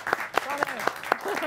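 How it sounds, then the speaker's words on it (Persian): Audience in a Persian television talk-show studio claps in a steady, even rhythm of sharp hand claps, with a voice talking over the applause throughout. "تشویق کنید یک بار دیگه"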